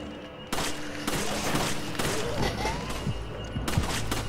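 Gunfire from the video game Resident Evil 5: loud, close bursts of shots come in quick succession, with a voice murmuring faintly underneath.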